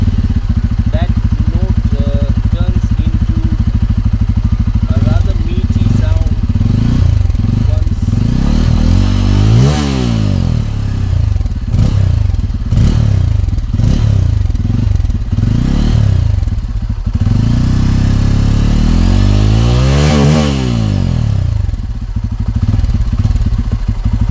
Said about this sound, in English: So we'll try to make you listen to what this motorcycle sounds like.